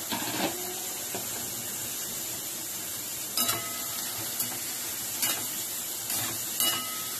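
Finely chopped onion fries in hot oil, a moderate steady sizzle broken by several sharp clinks and scrapes of a utensil against the pan, with no talking.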